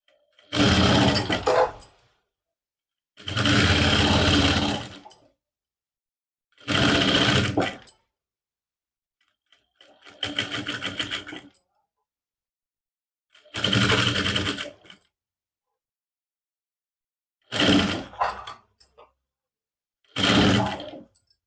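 A sewing machine stitches a folded half-inch strip onto the neckline of a lined suit, running in seven separate loud bursts of about one to two seconds each, with quiet pauses between them and no talking.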